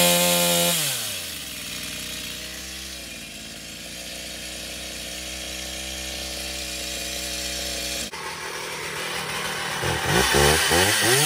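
A repaired Stihl MS250 chainsaw runs steadily close by, its engine note dropping at the start, holding a smooth idle-to-mid rev, then surging louder with a sharper high whine near the end.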